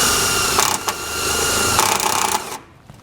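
A self-tapping screw is driven through a wiring terminal with an 8mm socket on a power driver, a loud, steady whirring grind with a few brief catches, stopping abruptly near the end.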